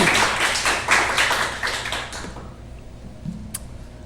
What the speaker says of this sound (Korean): 하나님께 영광의 박수 한번 올리고 말씀 듣습니다.